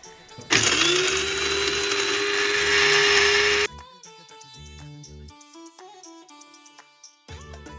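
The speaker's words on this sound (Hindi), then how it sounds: "ये बड़ा क्यूट सा नट ग्राइंडर है" A small, cute electric nut grinder whirs loudly for about three seconds while grinding nuts for bajra gond ladoos, a steady high motor buzz that stops abruptly, followed by quieter clinks and handling noises.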